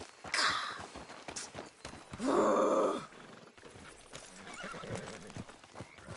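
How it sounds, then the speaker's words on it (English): A video game horse whinnies loudly in a single drawn-out neigh during a race, surrounded by clip-clopping hooves and snorting at moderate distance. "Damn horse acting up on me."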